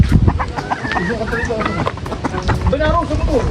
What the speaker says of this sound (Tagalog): Kumakain na po dito yung mga bibi.